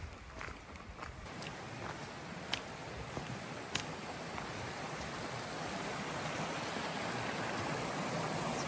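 Creek water flowing steadily along a hiking trail, a soft continuous wash heard close and fairly quiet, with a few faint footsteps or knocks near the start.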